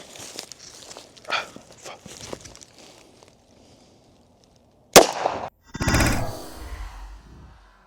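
A .45 ACP 1911 pistol fires at an aluminum cube, a single sharp, loud crack followed by a second burst of ringing impact noise after scattered faint handling sounds.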